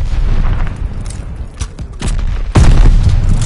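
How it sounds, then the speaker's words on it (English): Grenade blast in a first-person shooter video game: a dense, rumbling roar of battle noise that swells into a louder, sudden boom near the end, with no talk over it. "Tossing grenade!"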